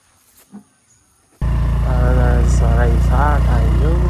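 After a quiet start, a scooter engine being ridden suddenly rises into a loud, steady drone with wind noise, while someone talks over it.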